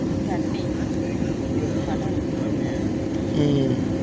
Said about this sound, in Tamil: ஃப்ளைட்டு லேண்ட் ஆகிட்டு இருக்கு நல்லா இறக்கமாக கீழே போய்கிட்டு இருக்கு